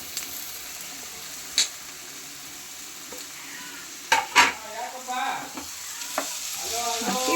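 Chopped potatoes go into a pan of frying onions and garlic, bringing a rising sizzle with a few sharp clinks and scrapes of a spoon stirring, close and without speech.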